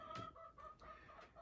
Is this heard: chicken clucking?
yes